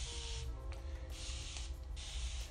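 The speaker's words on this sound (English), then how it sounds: "So as you hold the little nozzle, it literally just mist out water." Continuous-mist spray bottle releasing water in three long, even hissing bursts separated by short pauses, close to the microphone, with faint mechanical clicks between sprays and no speech.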